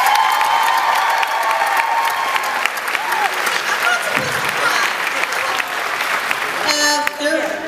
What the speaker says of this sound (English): she needs a huge round of applause